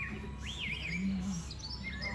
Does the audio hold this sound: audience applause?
no